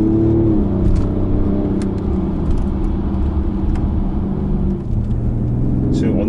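A BMW M550d with a quad-turbo diesel drives on an open road, its low engine drone and tire rumble steady and close inside the cabin, with a brief rise in tone near the end.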